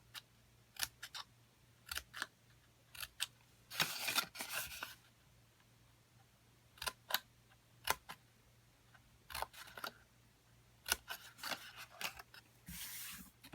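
Scissors notch cardstock tabs for a Stampin' Up flip top box, a series of short crisp snips and rustles in uneven bursts with a longer paper-handling scrape midway, close and fairly quiet over a faint steady hum.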